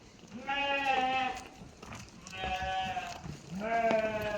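Tatalı-breed rams bleating in three drawn-out, wavering calls spaced a couple of seconds apart, fairly close and moderately loud, with no talk over them.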